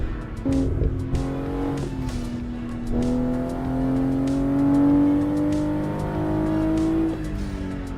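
BMW G20 driven in the PC racing game Assetto Corsa on the Shutoko Revival Project expressway, engine note rising through repeated gear shifts with short dips between pulls, loud and close with no talk.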